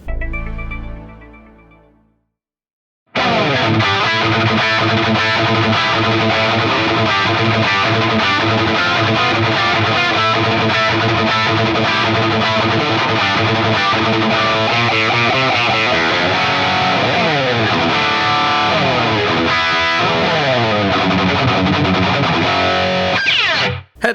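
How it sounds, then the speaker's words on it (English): A heavily distorted electric guitar, a Jackson Virtuoso with a Seymour Duncan JB pickup played through a Friedman IR-J, starts after a brief quiet moment, chugging and ringing loud and saturated for over twenty seconds with sustained chords and riffs. "I'm playing the Jackson Virtuoso with the Seymour Duncan JB here, straight into the IR-J into my interface"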